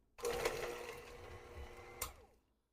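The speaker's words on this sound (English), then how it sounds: "we're going to mix on medium. Don't turn it on super high or you'll end up with potato everywhere." An electric hand mixer running on medium speed, beating mashed potatoes in a bowl, heard as a steady motorized whir that lasts about two seconds, with a brief surge near the end before it cuts off, close to the mic.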